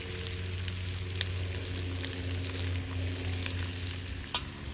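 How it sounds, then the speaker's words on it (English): Onions sautéing in a pan for lecsó give a continuous light sizzle with scattered pops over a low steady hum, even in level throughout and without any talking. "Now that we have our onions lightly sauteed"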